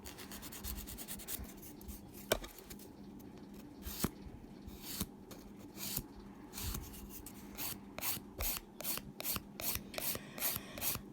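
Acrylic nails are buffed with short, rapid rubbing strokes, close and fairly quiet, which grow faster and more rhythmic toward the end, heard without talking.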